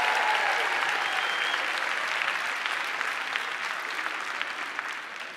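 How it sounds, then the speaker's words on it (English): Steady applause from a sizable audience at an elementary school performance, dense clapping that holds throughout and fades slightly toward the end. "let's give one more round of applause for all our amazing performers tonight"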